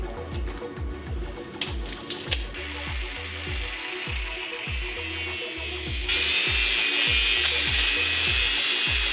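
Metal pipes being cut for coffee table legs with a power tool, giving rapid rhythmic rasping strokes followed by a sustained harsh grinding whine that grows louder near the end, close by with no talk.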